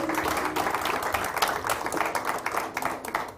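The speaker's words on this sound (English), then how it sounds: "One more round of applause for Eva." Audience applauding at an event announcing the most loved brands by women in Kenya; a crowd claps steadily and fairly loudly, with individual claps standing out, fading slightly toward the end.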